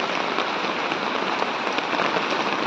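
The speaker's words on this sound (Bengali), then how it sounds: "আমাদের এখানে তো প্রচণ্ড বৃষ্টি হচ্ছে" Heavy early-morning rain pours down in a constant, full hiss of drops striking surfaces, steady and close, with no voices.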